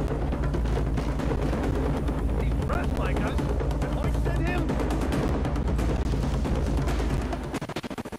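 A grenade explosion and gunfire in the video game Far Cry 3 form a loud, dense barrage of rapid shots and blasts that fills the whole stretch, with voices heard over the combat.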